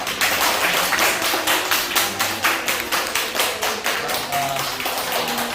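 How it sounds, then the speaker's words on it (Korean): A church congregation applauds together during a Sunday service, with a steady run of claps at an even pace that holds for several seconds without talk. "하나님께 감사하고 서로에게 격려 박수 좀 해주시면 좋겠습니다"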